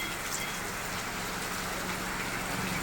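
Steady downpour across Kollapur town, a loud unbroken wash of rain hitting roofs and streets, with faint traffic hum beneath and no speech.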